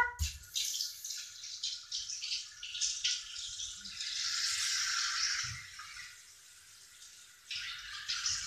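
A tap runs while a crayon is washed under it, giving a quiet, continuous splashing hiss with small rattles and knocks that shifts in intensity throughout.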